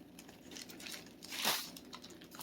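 A reused plastic bag is folded over cured salmon eggs, with soft close crinkling and rustling and one sharper crackle midway, faint and intimate.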